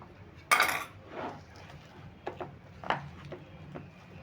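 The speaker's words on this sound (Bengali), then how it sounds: "এবার আমি হাতে করে ভালো করে আরও ফেটিয়ে নেব আরও কিছুক্ষণ ফেটিয়ে নিচ্ছি" Fish roe mixture being beaten by hand in a bowl, faint soft squelching and slapping strokes with a sharper knock near the start and scattered light clinks of the bowl.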